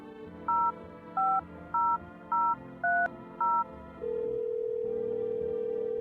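Telephone number dialed in a video game: six evenly spaced two-tone keypad beeps, then a steady continuous dial or ringing tone that holds to the end, clean and close with no talking.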